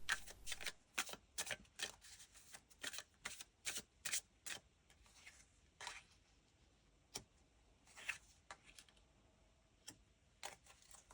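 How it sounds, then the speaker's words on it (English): Tarot cards from a Kalevala deck are shuffled and laid out, giving a run of crisp riffling and sharp slapping snaps close up. The bursts repeat unevenly with brief pauses and no voices. "Next, let's lay out the Kalevala tarot cards."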